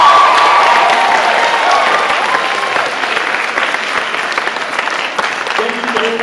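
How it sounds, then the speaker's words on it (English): Audience applause at a school closing convocation, a loud, dense wash of clapping that fills the room and slowly thins, with a few voices and cheers rising through it and a speaking voice cutting in near the end. "Let's give them a round of applause as well."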